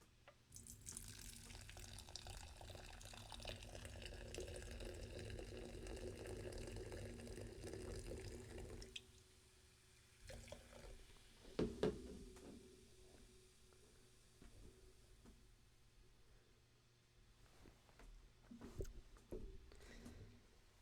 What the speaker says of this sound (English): let's give this a pour. So here comes the Pink Poison flavor.